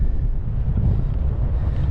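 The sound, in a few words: wind on mountain summit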